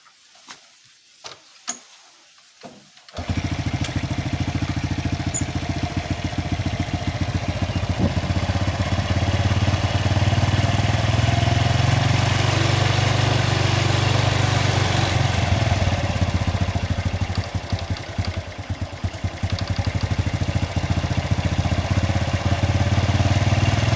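A motorcycle engine idling steadily during a carburetor idle adjustment, starting after a few seconds of quiet clicks and handling noises, then running evenly and close by for the rest of the clip with no speech.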